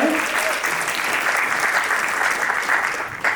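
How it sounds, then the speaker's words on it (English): An audience at a film festival fireside chat claps steadily and warmly, a dense, sustained wash of applause throughout. "A big round of applause for her."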